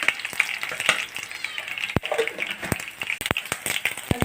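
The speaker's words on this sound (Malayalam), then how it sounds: "ഒരു സ്പൂൺ കടുക് ഇട്ട് കൊടുക്കാം" Mustard seeds crackle and pop in hot oil for tempering, a run of sharp, close spits and snaps over a faint sizzle, with no talk.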